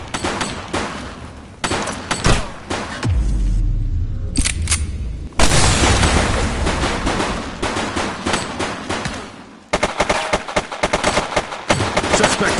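Gunfire crackles in the police video game The Precinct: loud, close bursts of rapid shots and single cracks, with a heavy boom midway and short pauses between volleys.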